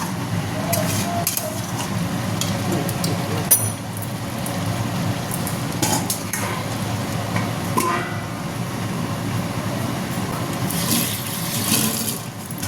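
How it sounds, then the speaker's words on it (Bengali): Mutton is sautéed with sour yogurt in a pan for a light-spiced mutton curry, with a continuous close sizzle and scattered clinks and scrapes of a utensil against the pan. "টক দই দিলে এইটাই ভয় যে ধরে নেবে। এটাকে ভালো করে কষাবো আমি।"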